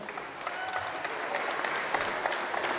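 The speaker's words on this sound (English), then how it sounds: "big round of applause" Steady audience applause fills the hall at a national youth climbing championship lead final, a dense, continuous clapping from a sizable crowd throughout.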